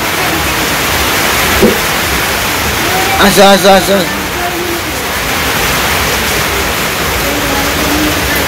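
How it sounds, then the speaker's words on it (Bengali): Heavy rain in a Bangladeshi village falls in a loud, continuous hiss, while people talk and call out over it at close range. "বৃষ্টি নামছে, বৃষ্টি"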